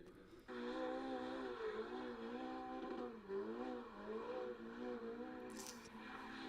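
A car doing a burnout gives a faint, distant engine drone whose pitch wavers and rises as it revs steadily.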